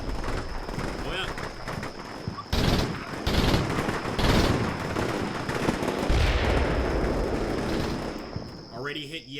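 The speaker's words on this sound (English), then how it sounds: "Even the machine gun is firing. And that is an MG3, man." An MG3 machine gun fires in Combat Mission Shock Force 2, with sustained rattling bursts and other gunfire amid battle noise while someone talks over it.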